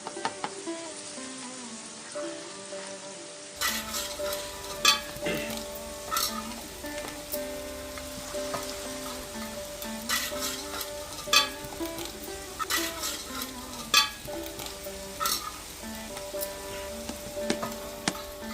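Onions with ginger-garlic paste fry for a village-style crab curry, a steady close sizzle with repeated stirring scrapes of a spoon in the pan, starting after a brief quiet opening and continuing without speech.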